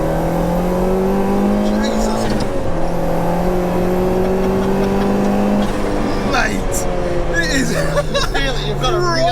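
A 2.1-litre stroker Peugeot 205 GTI turbo making 315 bhp pulls hard in third gear, its engine note rising steadily and loudly, briefly dipping at a shift-like break, with voices talking over it throughout.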